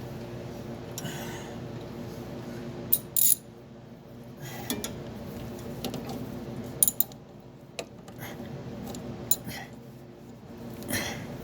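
A ratchet tightens a steering shaft bolt on a G-body car during a steering shaft and bearing upgrade, giving a few scattered metallic clicks and clunks over a quiet workshop background.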